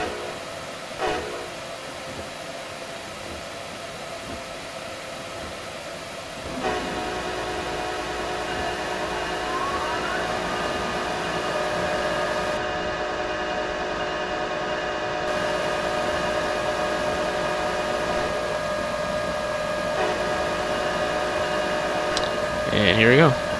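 A locomotive restarts in the Train Simulator 2015 video game, producing a steady, loud engine rumble with sustained tonal drones. The sound builds slightly and swells near the end, and faint talk can be heard in the background.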